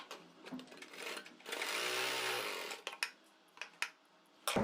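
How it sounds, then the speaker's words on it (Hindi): A sewing machine stitches along folded kurti fabric, running in a steady whirring burst for about a second and a half. Scattered clicks and handling knocks come before and after, close and fairly quiet, with no voices. "ऐसे करके यहाँ तक अपनी सिलाई को कंप्लीट कर देंगे"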